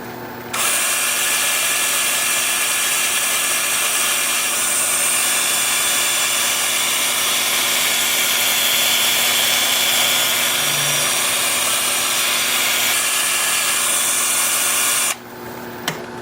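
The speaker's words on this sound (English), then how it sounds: "I'm gonna start at 150 grit, and I'll show you what that looks like as soon as I get my mask on. Lathe is spinning in reverse at about 340." A wood lathe spins in reverse at about 340 rpm while a turning is sanded at 150 grit, making a loud, steady, continuous whirring hum for roughly fifteen seconds before it stops abruptly, with no speech.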